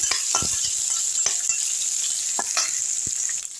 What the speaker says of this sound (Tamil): வெங்காயத்தை எடுத்து போட்டுக்கலாம் நல்லா வதக்கி விட்டுருவோம்